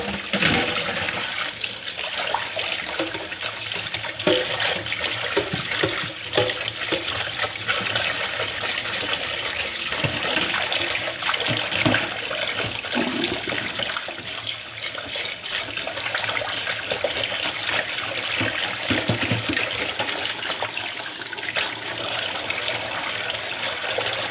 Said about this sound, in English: I'm gonna wash out this pot that I have.